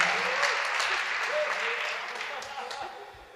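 An audience applauds a pianist being introduced before a performance, a steady wash of clapping from a moderately distant crowd that gradually fades, with a voice faintly audible beneath it.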